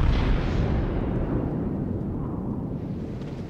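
Heavy battleship guns fire in the naval combat game World of Warships, a deep, booming roar that rumbles low and heavy before slowly dying away, with no voice over it.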